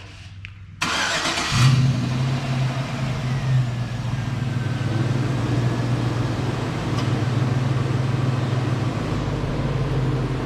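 A Chevrolet Silverado engine cranks and catches on remote auto start after a serpentine and A/C belt replacement, then settles into a steady close idle with no belt squeal.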